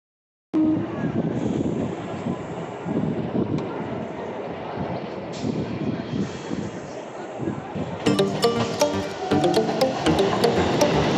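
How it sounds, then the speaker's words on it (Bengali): A Howrah–Barddhaman chord line local train pulling into platform one at Balarambati station, with a loud steady rumble and rush of wind, then sharp rhythmic clanks as it slows. Voices are faint in the background. "আমাদের ট্রেন এসে থেমে গেল এক নম্বর প্ল্যাটফর্মে"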